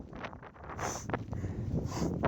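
Strong wind buffeting the microphone on top of Little Hump Mountain on the Appalachian Trail, a continuous rough roar with gusty swells and brief hissing bursts, close and loud throughout.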